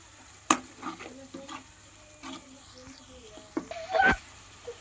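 Spoon stirring and mixing ingredients in a pan for potato poha, scattered scraping clinks and soft sizzling with irregular strokes, close and fairly quiet.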